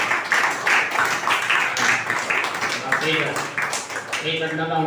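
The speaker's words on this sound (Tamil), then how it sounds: "கைத்தட்டி கர்த்தரை மகிமைப்படுத்துவோம்." A church congregation claps hands in a steady rapid rhythm during a Sunday service while voices talk over it, the clapping fading and speech becoming clearer near the end.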